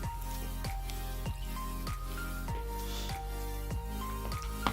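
Water glugs out of a bottle in a quick, regular series of bubbly gulps and drips, close and clear with nothing else heard.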